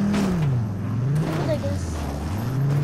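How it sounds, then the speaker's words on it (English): A car in the video game Fortnite drives along with a steady engine drone that rises and falls as it revs, loud and continuous, with tire and road noise. "I'm driving this car."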